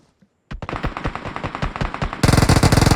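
Gunfire in a shooting video game, a sudden rapid burst of automatic fire that grows louder and denser toward the end, close and continuous.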